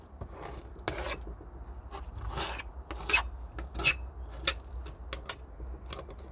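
Scratchy raking and rasping of a comb through the roots of a Fraxinus xanthoxyloides tree, in irregular bursts and scrapes, close and fairly quiet, with no voices.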